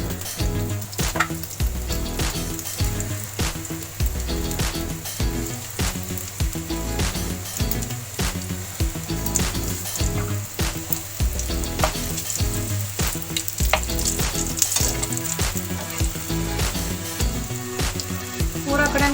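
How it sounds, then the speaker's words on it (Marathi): Pieces shallow frying in oil for a vegetarian egg curry: a dense, constant crackling sizzle with a rapid rain-like patter of popping oil, close and loud, and faint talking now and then underneath. "चिके तेल सोडका भाजू खाते आता हांव शालो फ्राय करता"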